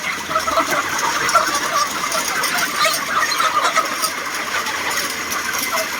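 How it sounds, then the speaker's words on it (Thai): A large mass of chickens on a chicken farm in Israel makes a dense, continuous din, steady and loud like a droning hum, without voices. "เยอะมากเลยครับผมฟาร์มไก่ครับ"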